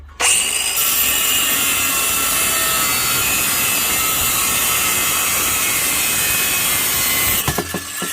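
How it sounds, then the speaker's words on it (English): A power grinder cuts off bracket parts of a metal expansion vessel during a gas leak repair, a loud, steady, close whining grind running for about seven seconds before trailing off into scraping. "So what I'm going to do is grind these off."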